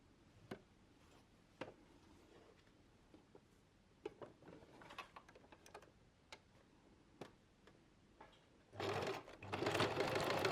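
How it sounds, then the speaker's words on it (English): A home sewing machine stitches the full side seam of a garment with an inseam pocket, pocket facing up; scattered light clicks and taps lead into a short, loud, fast-running burst of stitching near the end. "With the pocket facing up, sew the entire side seam."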